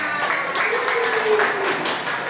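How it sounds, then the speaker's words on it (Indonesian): A classroom group claps briefly in a short, even burst of many hands, with faint voices mixed in underneath. "Wow, tepuk tangan."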